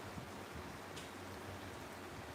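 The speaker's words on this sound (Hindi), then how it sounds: "हमारे यहाँ तो आज जाके बारिश हो रही है" Rain falls in a steady, dense hiss that stays even from start to finish, with no voices.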